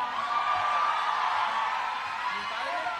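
An outdoor audience at a march concert for the International Day of Life in Madrid breaks into steady applause and cheering, a dense, continuous crowd roar with scattered whoops throughout.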